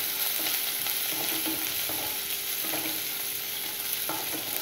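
Onions, a dried red chilli and curry leaves sizzle and crackle in hot oil, a constant frying hiss with soft scraping stirs every second or so.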